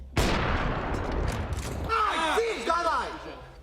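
Gunfire in a professional Counter-Strike esports match at a Cologne major: a sharp, loud shot opens a dense burst of rattling fire and noisy blasts, with a commentator's excited voice talking over the second half.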